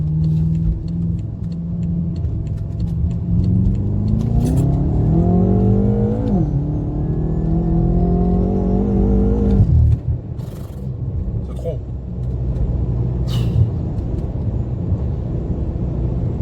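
A BMW M5 F10 engine revs hard and climbs in pitch, drops off, then roars again, loud and close, with a deep rumbling exhaust throughout.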